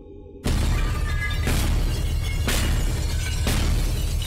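Glass shatters loudly and repeatedly in the puzzle game Boxes: Lost Fragments, four sharp crashing bursts about one second apart after a brief quiet start, each trailing into a bright tinkling spray of shards.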